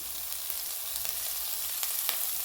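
Onion and green chillies frying in hot oil for dal tadka, a continuous close sizzle with a few soft stirring scrapes, steady and even, no voices.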